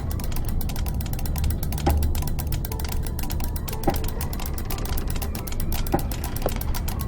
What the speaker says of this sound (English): I can hear it tick.